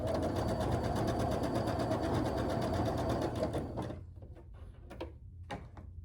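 Sewing machine stitching quilt block pieces, a fast steady mechanical whirring for about four seconds that then stops, followed by a few soft clicks and handling sounds.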